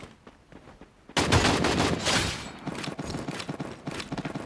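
Loud burst of automatic gunfire in a battle royale shooter, erupting after a quiet moment as a headshot lands, followed by continued rapid shots and clatter.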